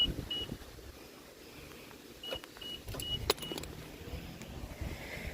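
An older style key for a 2003 Toyota Avalon XLS jangles and clicks softly in a car interior, a few small metallic chinks over a low idle hum.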